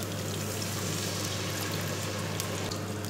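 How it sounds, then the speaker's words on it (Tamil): Water pours steadily into a cooking pan of frying ingredients for lake fish curry, a continuous rushing splash over a low, constant hum from start to finish. "கொஞ்சமாக தண்ணி ஊற்றிக்கலாம்"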